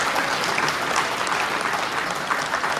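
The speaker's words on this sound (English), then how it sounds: "let's give a big round of applause for the graduating executive." Steady applause from an audience at an awards banquet fills the whole stretch, dense clapping at an even level without a break.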